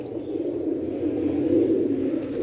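Paired pigeons cooing in the early morning, a low soft murmur of coos close by with a couple of faint chirps above.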